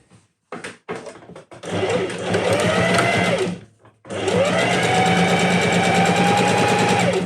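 A sewing machine stitches bias binding onto halterneck straps, starting with a few short stop-start bursts, then running fast and steady in two long, close, whirring runs separated by a brief pause.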